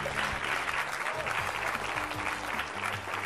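A student festival audience applauds a quiz contestant with dense, steady clapping that fills the whole stretch at an even level. Faint voices may mix into the crowd noise.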